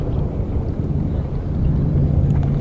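A motorboat engine idles and drops into gear before a wakeboard pull, a steady low droning hum with wind buffeting the microphone, growing slightly louder toward the end.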